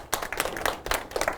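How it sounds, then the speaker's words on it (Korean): An audience claps in appreciation at a humanities lecture, a short burst of quick, close, irregular handclaps. "우리 선조들을 위해서 큰 박수 한번 치시기 바랍니다"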